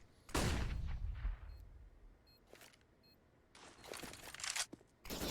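Rapid bursts of gunfire spray in a Counter-Strike esports match on the map Vertigo, loud clustered shots near the start and again near the end, separated by quieter game ambience.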